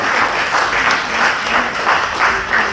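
An audience at a Sri Lankan seniors' annual event in New South Wales applauds, a loud, dense, continuous burst of clapping from a full hall, with a faint voice briefly underneath.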